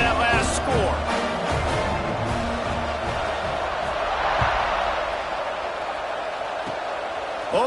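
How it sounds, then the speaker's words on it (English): Crowd at a college football stadium buzzing right after a score, a dense, steady roar of many voices filling the space at constant loudness, with a commentator's voice speaking over it. "this crowd is buzzing after that last score"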